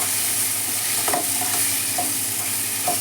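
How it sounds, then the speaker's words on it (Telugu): Tomato pieces with turmeric cook in a pan with a steady close sizzle, broken by a few soft stirring scrapes, and no one speaks. "మంచిగా టమాటా ముక్కలు బాయిల్ అవుతాయి."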